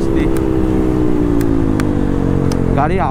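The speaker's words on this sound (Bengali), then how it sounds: "গাড়ির আওয়াজের বেস অনেকটা বেড়ে গেছে" A KTM Duke motorcycle with a modified exhaust drones steadily and loud up close, a deep continuous engine note with a rising rev near the end, as the rider speaks over it.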